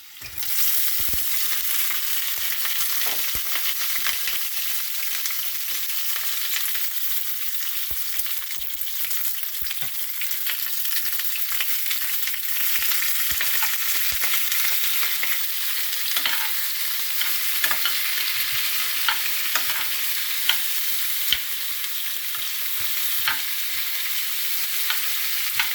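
Onions frying in a pan while being stirred, a steady broad sizzle running throughout with scattered scraping clicks from the utensil, close and even in level.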